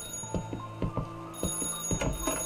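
Telephone ringing inside the horror video game Light Switch: repeated bright electronic ring bursts at a steady rhythm, clear and fairly loud with no talk over them.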